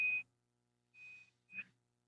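A faint electronic beeping in the background, three short tonal beeps at irregular spacing, the first and second longer and the last clipped, against a quiet room.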